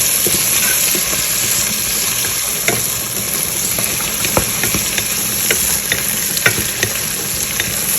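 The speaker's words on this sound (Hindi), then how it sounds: "टमाटर भी आपको नज़र आ रहे हैं थोड़े मोटे मोटे कटे हुए हैं तो ये डाल देते हैं।" Coarsely chopped tomatoes sizzle steadily in a frying pan, a close continuous crackle with occasional stirring clicks and scrapes, no talking.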